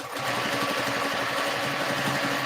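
A sewing machine chain-pieces small quilt block pieces with rapid, steady stitching that runs continuously, loud and close, with no talking.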